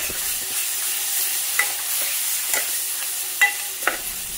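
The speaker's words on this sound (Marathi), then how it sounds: "हे मसाले व्यवस्थित भाजून घ्यायचे म्हणजे जेणेकरून जळणार नाहीत" Ground masala paste fries in hot oil over medium heat with a constant close sizzle, broken by occasional scraping knocks from a spoon stirring the pan.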